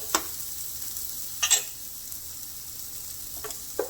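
Red Thai curry paste being stirred into a pot, with a few scraping utensil strokes and light clatter over a soft sizzle, scattered and fairly quiet.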